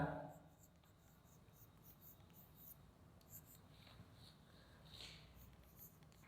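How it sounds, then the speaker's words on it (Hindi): Handwriting by pen or marker, faint scratchy strokes in short bursts close by, quiet and intermittent after a brief louder sound at the start. "तो चलिए इसको हम लिखते हैं"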